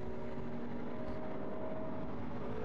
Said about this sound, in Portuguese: Motor Mercedes falando alto nesse trecho do moderno circuito da Eslováquia.